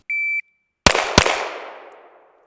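A shot timer emits a short electronic beep, then two sharp pistol shots crack in quick succession outdoors on a snowy range, loud and close, with a long echoing decay trailing away.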